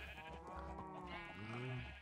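Minecraft sheep bleat continuously in a dense, overlapping flock chorus, wavering calls layered together at a steady low volume, with no speech.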